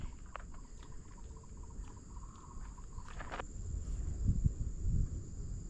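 Crickets kept as fishing bait chirp steadily in a container outdoors, a close, continuous high trill with a few faint knocks and rustles beneath it and no talk.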